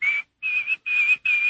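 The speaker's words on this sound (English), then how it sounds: "Henry was whistling as he cleaned the last papers off his desk at the end of the day" A man whistles a cheerful tune while clearing papers off an office desk at the end of the day in a radio drama. Four clear, close whistled phrases, separated by short pauses, with no other sound.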